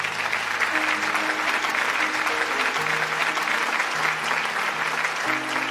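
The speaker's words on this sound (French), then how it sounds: "vous pouvez les applaudir" Loud, sustained applause from a gala show audience, a dense, even wash of many hands clapping while steady musical tones play underneath, with no talk.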